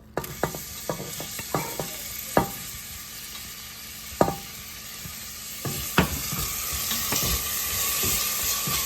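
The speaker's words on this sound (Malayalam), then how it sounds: "ഒന്ന് ചൂടാകണം, അതുവരെ ഒന്ന് ഹൈ ഫ്ലെയിമിൽ തന്നെ ഇട്ട് ഒന്ന് ഇളക്കി കൊടുത്തു." Finely cut onions and two green chillies frying in coconut oil over a high flame for parippu curry. A bright, steady sizzle carries sharp, irregular stirring clacks of a spatula on the pan.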